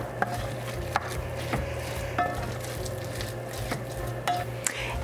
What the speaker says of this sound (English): we're just going to mix that up